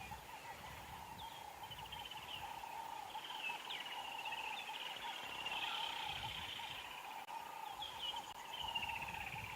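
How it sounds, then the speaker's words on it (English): Several birds, including woodland kingfishers, call in an African safari setting at sunrise, with repeated trilling calls rising and falling at moderate distance over a quiet, steady outdoor background. "listen to all of the woodland kingfishers and other birds around us"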